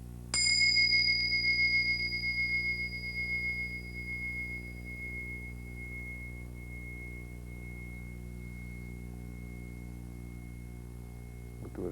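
A single bell strike rings out with a bright attack, then a long sustained tone that wavers in a wah-wah vibrato as it slowly fades, alone and fairly faint.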